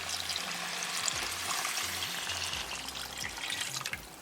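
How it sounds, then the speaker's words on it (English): Four cups of water poured into a pot of chickpea chicken curry, a steady rushing pour over a bubbling sizzle, close and moderately loud, with no talking. "Now we'll add water"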